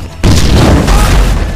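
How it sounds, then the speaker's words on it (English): A sudden loud boom in the video game Grand Theft Auto V bursts in after a quiet moment, followed by a heavy, roaring rumble that sustains at full volume. "That explosion must have knocked me out"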